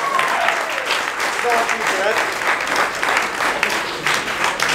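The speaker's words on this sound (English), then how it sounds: "It's a big round of applause." A crowd at a ghost pepper challenge event with a military cadet corps breaks into loud, sustained applause, with scattered voices and whoops mixed into the continuous clapping.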